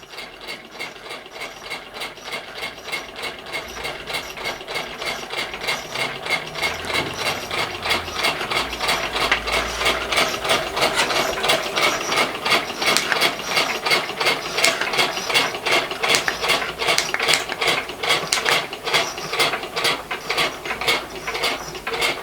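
Wound-up clockwork model steam engine running, a rapid steady mechanical ticking and clattering of gears that builds slightly in loudness and stays even, close and alone without talk.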